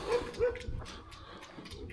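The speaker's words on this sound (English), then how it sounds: "See the dog in the car going nuts." A dog inside a car barking excitedly, two quick yapping barks followed by softer whimpering yelps, heard at a moderate distance.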